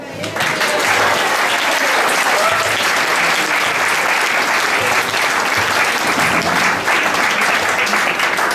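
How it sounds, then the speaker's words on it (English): Wedding reception guests applaud steadily after a father-of-the-bride speech, a dense, loud, continuous round of clapping that fills the room from start to finish. "Another round of applause for Uncle, please."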